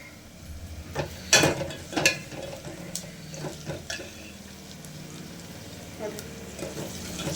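Tomatoes frying in oil for a Kannada-style pepper rasam, with soft sizzling and a few sharp stirring clatters near the start, then a steady low crackle under kitchen background noise.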